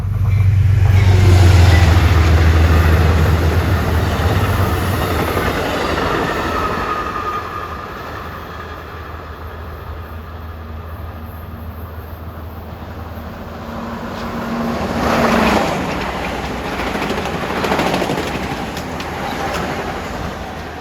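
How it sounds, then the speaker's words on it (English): A Metro-North commuter train, train 759, made up of an M7A set with a high-step, passes non-stop toward Tarrytown at Ardsley-on-Hudson. It opens as a loud close rumble, eases into a steady roll, then swells again with wheel noise. "Approaching now is a high-step and M7A set, train 759, non-stop, 125 to Tarrytown."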